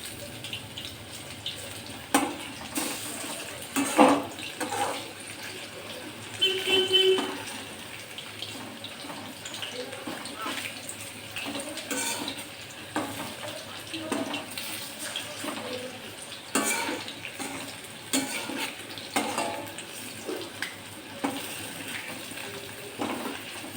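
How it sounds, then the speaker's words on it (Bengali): Fritters made of ash gourd peel and shrimp heads are flipped in a pan, giving a continuous watery sizzle broken by scattered clinks and scraping. "বড়াগুলো এবার আমি উল্টো দিচ্ছি"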